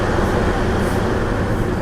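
Steady broadband rumble of a DEMU passenger train running just after leaving Jammalamadugu station on the Nandyal to Tirupati route in Andhra Pradesh, a constant loud interior drone of engine and wheels with no pauses and no voices.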